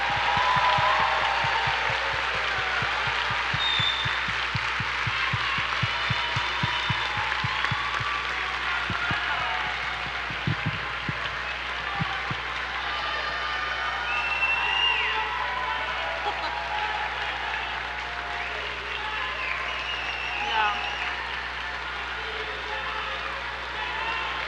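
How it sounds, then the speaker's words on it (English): Sustained audience applause fills a white coat ceremony for health professions students at a medical university, a dense steady patter of many hands clapping at moderate loudness for the whole stretch, with a few louder individual claps near the start. "Can we give them one more round of applause?"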